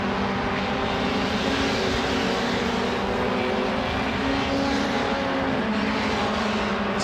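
MRF 2000 single-seater race cars on track during Race 5 of the 2018 MRF Challenge, with the leader Jamie Chadwick passing by; a loud, steady high-revving engine drone fills the whole stretch, with a slight pitch shift as cars go past.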